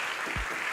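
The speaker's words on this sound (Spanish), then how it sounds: "un aplauso a todos nuestros panelistas" Theatre audience applauding panelists at a future-of-work forum, a short, fairly faint wash of clapping with one low thump partway through.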